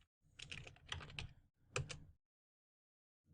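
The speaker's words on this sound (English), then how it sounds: "so just type right here NSLookup facebook.com" Computer keyboard typing of a short command, two close bursts of rapid key clicks separated by a brief pause, then silence.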